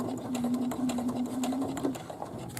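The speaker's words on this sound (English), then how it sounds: "I'm just going to use the needle up and the needle down button to give me that one extra stitch" A sewing machine slowly stitches through thick layers of a drawstring bag, giving a steady close-up hum with soft rhythmic needle ticks throughout.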